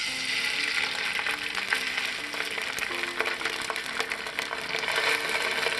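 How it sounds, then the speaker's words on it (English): Salmon fillets searing in a hot skillet, producing a bright, continuous sizzle with crackling pops, close and steady with no voices. "now the skillet is hot. It's warm. Let's put the salmon fillets in."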